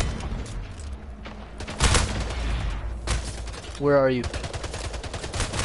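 Shotgun blasts in the arena shooter Splitgate, a few loud separate bangs among game effects, with a player speaking briefly between them.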